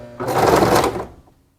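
A sewing machine backstitches while sewing a draped skirt: one loud, close burst of rapid stitching lasting about a second, then a quick fade to silence.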